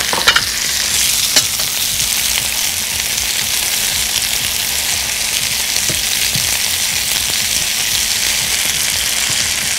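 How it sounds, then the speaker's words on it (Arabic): Mushrooms sautéing in butter in a pan, a loud, dense, steady sizzle with a few quick clicks of stirring at the start. "احط اول حاجة المشروم نفسه، عايزة اديله تقليبة كده مع الزبدة"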